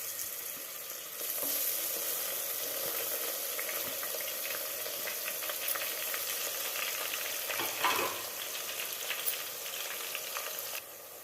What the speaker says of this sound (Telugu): అల్లం వెల్లుల్లి పేస్ట్ పచ్చి వాసన పోయేంత వరకు నూనెలో బాగా వేయించుకోవాలి.